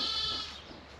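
A self-shedding sheep near a barn gives a single short, close bleat that fades quickly.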